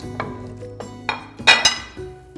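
Marinated shrimp go into a Ropot cooking pot with a tablespoon of oil, giving a string of clinks and clatters of metal and utensils against the pot, with a louder cluster of knocks near the end and no talking.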